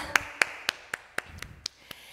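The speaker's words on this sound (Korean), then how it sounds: "하나님께 영광의 박수 올려드리겠습니다." Congregation at a children's Sunday church service claps in a slow, evenly spaced rhythm of about nine sharp hand claps, moderately close with a quiet room tone behind.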